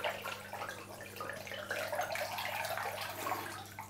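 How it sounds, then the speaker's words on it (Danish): Bucket of plain tempered tap water poured into a 123-litre Fluval Flex aquarium during filter cleaning, a steady close splashing gush over a low electrical hum, running continuously without talk. "Men den sidste spand her skal selvfølgelig også lige med."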